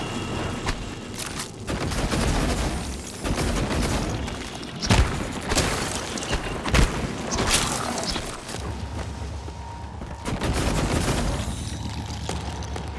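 Gunfire in the video game Prey, with pistol shots and booming impacts amid loud, dense game action and effects that run throughout.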